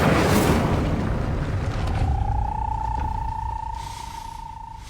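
Incendio fire spell cast in Hogwarts Legacy: a loud whooshing burst of flame at the start that fades into a low rumble, with a sustained ringing tone rising beneath and tailing off over a few seconds.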